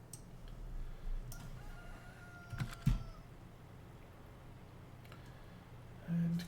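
Chickens on a farm in the video game Farming Simulator 19 give faint distant clucks and a brief crow-like call amid a soft ambient background, with a few quick clicks and a short low sound near the end.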